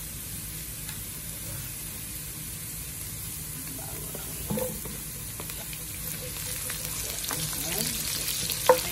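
Garlic frying and browning in a pan for chicken sinigang with tomatoes, a steady close sizzle with occasional stirring scrapes and small pops near the end.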